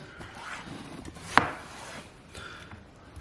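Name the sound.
knife slicing watermelon on cutting board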